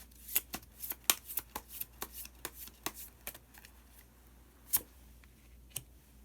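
Tarot cards being shuffled and drawn by hand: a quick run of crisp papery flicks and slaps, fairly close, with irregular bursts and a couple of isolated snaps near the end, no talking.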